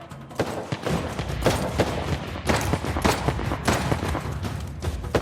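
Sustained gunfire in Uncharted: The Lost Legacy, dense overlapping bursts of shots and booms rattling continuously and loudly throughout, with no voices.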